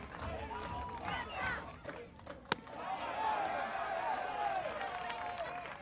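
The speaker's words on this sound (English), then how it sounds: "Venezuela crowd is fired up." A Venezuelan crowd at a senior league baseball game against Australia roars and cheers in a broad, rolling swell, with a commentator talking over it and a sharp crack partway through.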